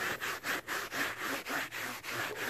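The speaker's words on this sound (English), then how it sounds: "just use a series of brushes or whatever and just give it a good scrub off" A brush scrubs a Volkswagen T4 rear bumper during restoration, making rhythmic, close-up back-and-forth rasping strokes at a steady, brisk pace, about a dozen of them with no talking.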